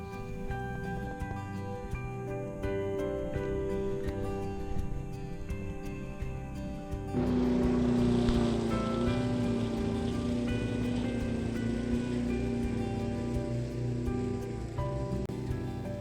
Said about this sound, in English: I'm ever so grateful for having this light mower here